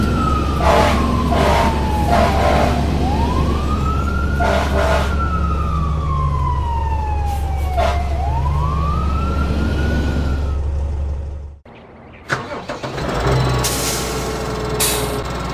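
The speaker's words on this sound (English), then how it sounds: "Fire engine." A fire engine's siren wails up and down in long, loud sweeps over a heavy engine drone, punctuated by blaring horn bursts, before cutting out and leaving engine clatter.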